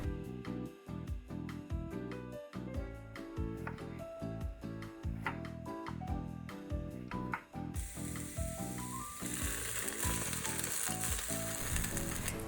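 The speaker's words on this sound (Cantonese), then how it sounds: "放埋入個煲一齊炒" Sliced luffa stir-fried in a pot, with a continuous sizzle and crackle under rhythmic background music, the frying growing louder and hissier toward the end, close up and without speech.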